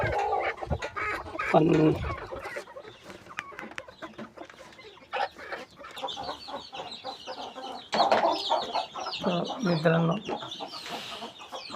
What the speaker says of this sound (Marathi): ज्या कोंबड्या अंड्यावरच्या आहेत त्या मी बाहेर सोडलेल्या आहेत.